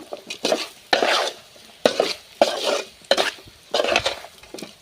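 Sweet potato pieces coated in chilli powder are stirred in a pan: about six distinct scraping, clattering strokes come in a loose rhythm, close and fairly loud, with no voices.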